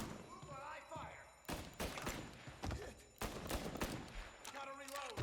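Gunfire rattles in the video game Mafia Remake, with loud bursts of shots and thuds in rapid succession, mixed with in-game character voices between the volleys.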